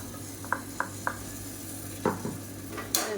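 Blended tomato sautéing in oil with curry masala: a quiet, steady sizzle broken by several sharp clinks and scrapes of a spoon against the pan.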